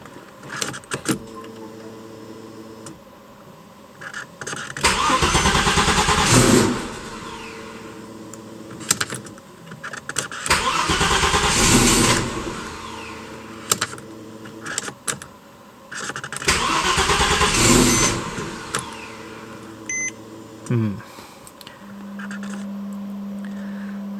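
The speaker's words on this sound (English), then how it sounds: "So this is a cold start now." An Audi S4 engine cranks and starts from cold three times, each burst of cranking and revving separated by quiet pauses with faint jingling and clicks.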